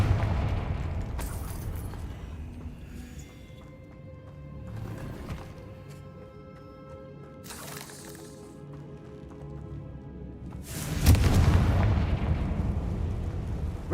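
Confringo blasting spells in the Hogwarts Legacy game burst several times, with sharp explosive cracks near 1, 5, 7.5 and a louder, heavier blast around 11 seconds over a low rumbling game backdrop.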